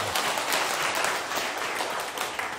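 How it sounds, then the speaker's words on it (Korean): An audience claps together at a lecture gathering, a dense, steady roar of many hands that carries at full loudness through the whole stretch with no talk over it. "네, 박수 한번 치세요."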